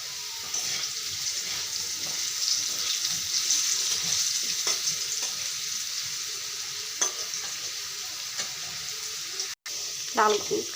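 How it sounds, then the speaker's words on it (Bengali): Potato pieces seasoned with salt and turmeric fry in oil in a pan, a constant close sizzle with a few faint utensil clicks and a brief sharp clatter near the end. "এখন ভালো করে লাল করে ভেজে নেব।"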